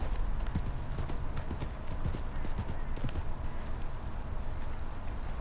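Horse hooves clip-clopping steadily in the video game Red Dead Redemption 2, a continuous rhythmic patter of hoofbeats with a brief whinny and some talking over it.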